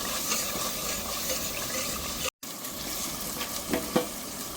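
Thick yogurt being sautéed in a pan with spices, giving a steady soft sizzle and frying hiss with faint stirring scrapes, briefly cut off midway, then a few louder sputters near the end.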